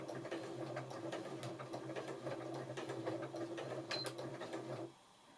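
A sewing machine stitches a quilt seam with a rapid, steady mechanical chatter at close range, running for about five seconds before stopping abruptly into quiet.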